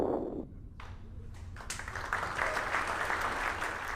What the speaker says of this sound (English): met with a good cheer from our team